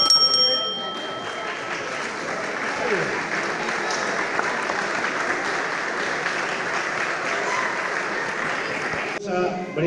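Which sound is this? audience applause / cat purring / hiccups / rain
audience applause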